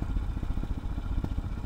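A motorcycle engine, ridden a little faster to pop small wheelies, throbs steadily up close with a dense, pulsing low rumble and faint mechanical clatter; no voices are heard.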